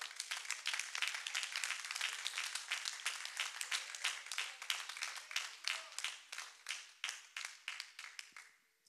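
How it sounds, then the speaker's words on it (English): A church congregation at a revival service claps hands in a sustained round of applause that gradually thins into a rhythmic, separated clapping pattern before stopping, fairly quiet and without voices. "Let's give God a hand clap."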